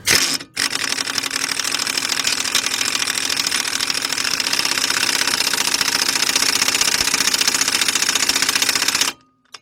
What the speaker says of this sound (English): Get our gun, 21mm socket. Put our gun on tightening.